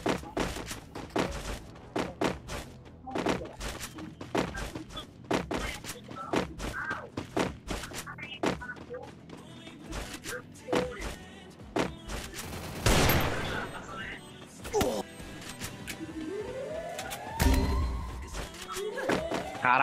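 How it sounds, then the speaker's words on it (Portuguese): In a shooter video game, a grenade explodes with one big, loud booming blast midway through, amid near-constant rapid gunfire and thuds. "ele jogou uma granada boa aqui"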